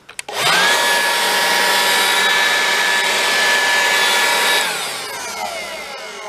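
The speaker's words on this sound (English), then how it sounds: "It's my little leaf blower that I bought" A small consumer leaf blower set on the ground outdoors starts up with a couple of sputters, then runs at a steady loud whine for about four seconds before winding down, with no talking.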